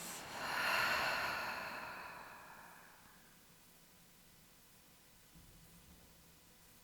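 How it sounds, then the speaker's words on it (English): A long exhale through the mouth during yin yoga, close and breathy, swelling in the first second and trailing off over a few seconds into near silence. "And exhale through your mouth."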